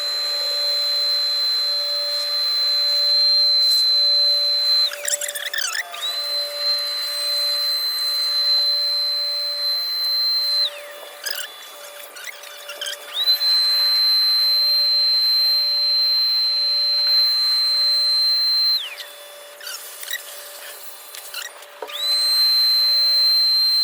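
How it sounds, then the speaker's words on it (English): A small vacuum cleaner draws up residual toner inside a Xerox Versant printer, its steady whine running close and loud, repeatedly dipping and shifting pitch as the nozzle is blocked and freed. "So we're just going to go ahead and vacuum up what we can."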